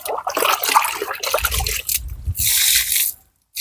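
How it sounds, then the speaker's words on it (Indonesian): Fertilizer water poured from a bucket around the base of an avocado tree outdoors, splashing and trickling onto soil in uneven bursts before stopping abruptly near the end. "Kita siram aja teman-teman."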